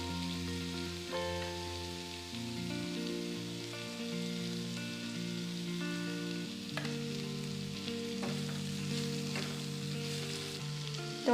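Sliced bitter gourd fries in oil over a low flame, giving a soft, steady sizzle that runs underneath sustained background music.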